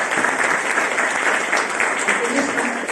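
Steady, dense applause from an audience welcoming Matushka Serafima at the opening of an Orthodox art exhibition, clapping filling the room throughout with faint voices underneath.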